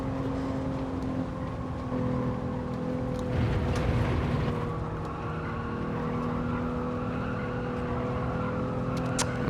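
Car driving in Gran Turismo on PSVR2, a steady engine drone with sustained tonal hum that rises and swells briefly in the middle, continuous and fairly loud.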